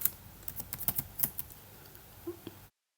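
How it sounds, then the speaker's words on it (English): A password is typed on a computer keyboard in a quick run of close, light key clicks. A couple of softer taps follow before it falls silent. "So I am trying to type my password of my local instance."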